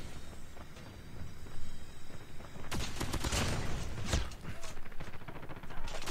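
An assault rifle with a rapid fire barrel is hip-fired in the COD Mobile video game, letting out quick bursts of gunfire. Footsteps and game sounds run underneath, and a player talks throughout.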